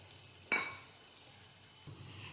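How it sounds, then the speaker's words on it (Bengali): Soaked ground spices tipped into a hot pan for paneer kosa, giving a sudden sharp sizzle with a light clink that fades quickly, then a softer second sizzle. "এবার আমি ভিজিয়ে রাখা গুঁড়ো মশলাটা দিয়ে দিলাম"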